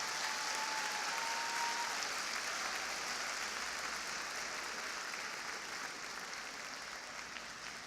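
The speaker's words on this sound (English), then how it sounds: "let's give her a round of applause" Audience at a National Urban League address applauding a singer's introduction, a broad, sustained roar of clapping from a large hall that stays steady and gently tapers off.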